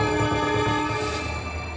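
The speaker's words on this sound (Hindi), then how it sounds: "पटरियों पर तेज रफ्तार ट्रेन दौड़ी भागी आ रही है, हॉर्न पर हॉर्न बजा रही है" A speeding train sounds a long, loud, sustained horn blast, steady and close, over the low rumble of the rail traffic.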